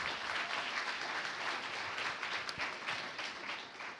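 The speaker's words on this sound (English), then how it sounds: "let's just give Laura and Josh one more round of applause" An audience at a Carroll business challenge evening gives a full, sustained round of applause for two participants. Many hands clap steadily and loudly throughout the short stretch, with no talking on top.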